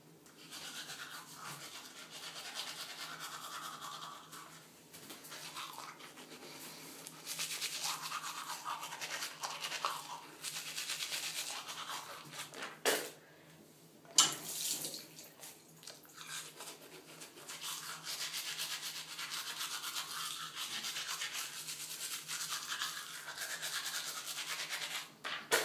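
Close, steady scrubbing of a toothbrush during tooth brushing, continuous wet rubbing strokes with a brief pause near the middle, no talking.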